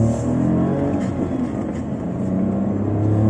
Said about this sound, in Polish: ten dźwięk turbiny jest naprawdę bardzo fajny